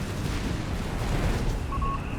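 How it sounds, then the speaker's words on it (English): Muffled, continuous rumbling booms of battlefield explosions in the game Company of Heroes 3 form a dense, low roar, and a short electronic beep sounds near the end. "So many explosions, so much carnage."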